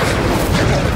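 A fire spell in Hogwarts Legacy erupts as a dense, roaring burst of blasts and crackles, loud and continuous through the whole moment with no voice over it.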